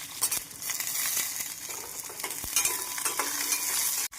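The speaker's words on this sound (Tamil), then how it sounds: "நம் வெங்காயம் பூண்டு சேர்த்து ஒரு நிமிடம் வதக்க வேண்டும்" Onion and garlic sautéing in a pan for a spicy ajwain-leaf chutney, a steady broad sizzle with stirring scrapes and a sharp clink near the end, close and continuous with no talking.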